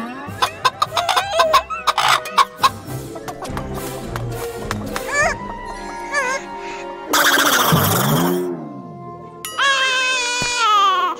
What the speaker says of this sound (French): C'est juste une gentille poule.